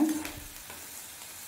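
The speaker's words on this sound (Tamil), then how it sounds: "இப்போ இதில் ஒரு மீடியம் சைஸ் வெங்காயத்தை பொடியாக கட் பண்ணி அதை சேர்த்துக்கோங்க. வெங்காயம் நல்ல கலர் மாற வதங்கணும், நல்லா வதக்கிக்கோங்க" Finely chopped onion sautés in oil in a pan, giving a brief, soft sizzle with a scrape of stirring at the start.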